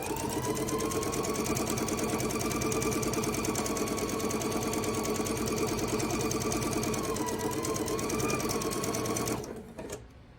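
A sewing machine stitches quilt half square triangles in a steady, fast, close mechanical whirr with rhythmic clatter for about nine seconds, then stops abruptly, leaving near silence.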